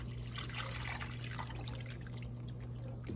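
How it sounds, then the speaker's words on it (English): Water trickles and splashes gently into a pan of gravy for shepherd's pie as it is whisked in, a soft, close liquid sound over a steady low hum, with no talking. "I'm gonna add about a cup of water. Just whisk that in."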